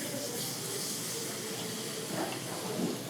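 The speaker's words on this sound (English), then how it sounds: "See the steam coming up, don't burn yourself." Steam hissing steadily as stock is poured into a hot pan for a shrimp and cockle corn soup, a continuous soft, broad sizzle-hiss held close and even throughout, with no speech.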